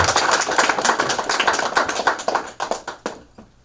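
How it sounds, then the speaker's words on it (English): Applause at a health institute graduation ceremony, a burst of close hand clapping that thins out into a few scattered claps before stopping. "a hand of applause"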